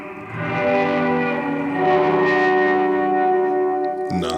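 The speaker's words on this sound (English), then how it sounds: "Reverb." An electric guitar rings through a reverb effect, with one sustained chord swelling and fading under a long wash of reverb, loud and close, before a brief click at the end.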